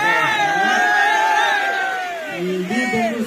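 A large festival crowd at a neighbourhood celebration cheers and shouts loudly, voices rising together in a dense, sustained roar of whoops and yells, easing slightly before swelling again.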